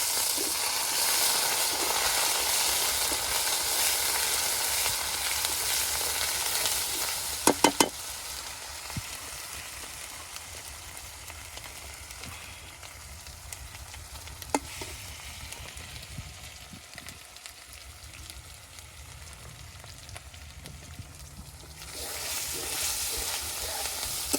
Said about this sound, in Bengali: মশলাটা আমার কষানো হয়ে গেছে